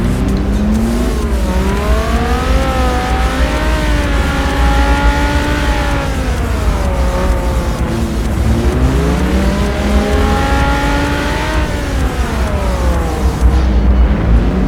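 At high speed in traffic, a Lamborghini Huracán Performante with a custom-tuned exhaust roars loudly and close, its engine pitch climbing and dropping through repeated surges and gear changes, with no voices.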